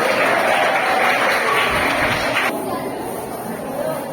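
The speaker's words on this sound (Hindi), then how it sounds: "सब लोग तालियों से उनका स्वागत करो" An audience at a Munshi Premchand birthday anniversary event claps to welcome a speaker, giving a dense burst of applause that eases off partway through, with crowd chatter underneath.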